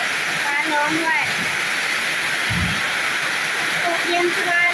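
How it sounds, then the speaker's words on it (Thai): Steady rain pours down outside a home during a thunderstorm, a continuous broadband wash at even loudness throughout, with faint voices and a brief low thump underneath. "ฝนตกแล้วค่ะ"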